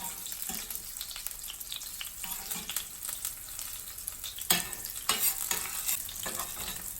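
Chilies frying in oil with a pinch of salt in a pan for Mexican refried beans give a steady, close sizzle with light scraping and stirring clatter, a few sharper pops and clinks midway, and no voices.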